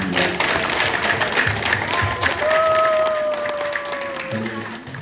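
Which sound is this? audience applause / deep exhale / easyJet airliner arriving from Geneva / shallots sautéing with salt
audience applause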